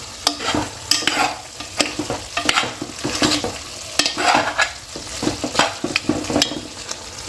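Fish frying in a pan in a home kitchen, a steady close sizzle with repeated sharp scraping and stirring sounds at an uneven rhythm, with no talking.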